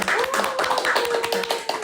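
Encouraging applause from a church young-adult group, dense clapping sustained throughout with a sung or spoken tone gliding over it and voices mixed in.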